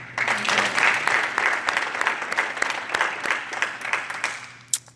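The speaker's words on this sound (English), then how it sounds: "One more quick round of applause." An audience claps steadily for a few seconds at a prison service dog graduation, a dense patter of hands that tapers off toward the end with one sharp last clap.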